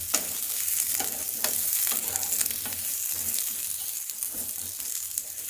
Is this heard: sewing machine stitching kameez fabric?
no